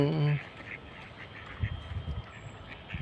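Ducks in Poland give a loud nasal quack right at the start, followed by softer low rustling and muttering sounds nearby.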